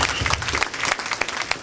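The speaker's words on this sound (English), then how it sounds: "But I give him a round of applause." A church congregation breaks into a round of applause, dense and loud clapping from many hands with a few sharper claps standing out.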